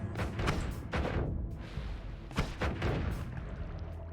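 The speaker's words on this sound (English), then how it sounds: "The explosions aren't as strong as I thought they might be." Bombs explode in the video game Noita, a rapid series of sharp booming blasts, some bunched close together, each with a short crackling decay, fairly muffled and alone.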